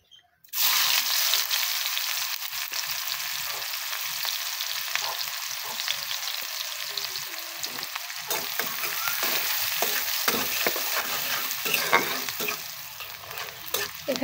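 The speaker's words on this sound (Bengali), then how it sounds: "এখানে পেঁয়াজ ভাজা হয়ে গেছে।" Onions fry and are stirred in a pan, a steady bright sizzle with scraping stir strokes running continuously at close range, no voices over it.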